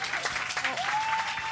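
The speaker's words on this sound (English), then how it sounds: "Can we give another round of applause to Sarah for sharing her story?" Audience applause at a community fundraiser after a speech: a short burst of steady clapping from a crowd, fairly close, with a thin sustained tone running underneath and no clear talk.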